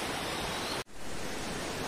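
A waterfall in the Mussoorie hills roars as a steady, loud broadband rush of falling water, briefly cut off for an instant before resuming unchanged.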